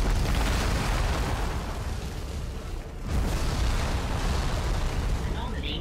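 Video game explosion destroying an anomaly, a dense roaring blast of noise that dips briefly midway and then swells again, loud and sustained throughout.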